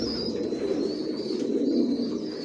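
Racer pigeons at a loft cooing in a low, continuous murmur, with faint higher chirps above it and no talk.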